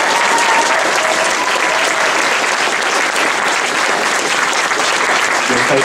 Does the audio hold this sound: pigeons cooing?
no